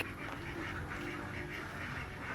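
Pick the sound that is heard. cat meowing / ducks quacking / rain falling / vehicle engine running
ducks quacking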